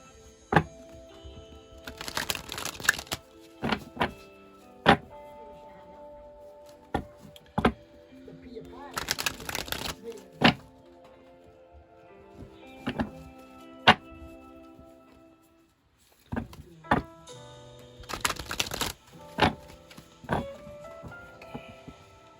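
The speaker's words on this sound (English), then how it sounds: "A lot of cards. Let's shuffle." Tarot cards shuffled in three quick riffling bursts spaced apart, with scattered taps and soft knocks on a table between them, fairly close and quiet.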